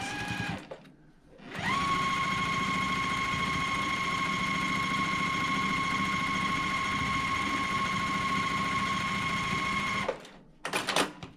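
A sewing machine stitches a quilt block seam, starting after a brief pause and running in one long, steady, loud whirring burst of about eight seconds before stopping, with small handling noises at the end.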